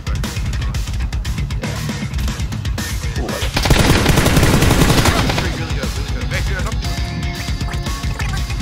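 Rapid machine-gun style gunfire from the battle royale game PUBG, dense continuous bursts that swell louder in the middle, with a player's voice talking over the shots.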